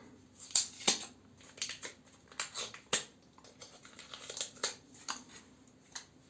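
A PermaSharp razor blade being unwrapped from its paper wrapper, heard as a close run of sharp, irregular crinkles and crisp rustles over a quiet room, with no talking.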